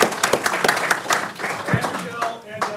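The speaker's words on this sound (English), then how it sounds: "So I just want to give a round of applause to Mike." Conference panel audience gives a round of applause, loose individual claps rising and falling in uneven bursts while people talk over them.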